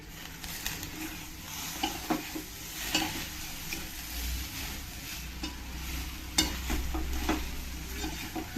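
Jackfruit curry with masala and coconut is stirred in a pan, with a spoon scraping and knocking irregularly over a low sizzle, close by and with no speech.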